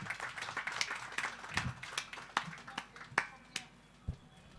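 A small group at a residents' association meeting gives scattered, sparse claps, a handful of distinct sharp hits spaced irregularly at fairly low volume.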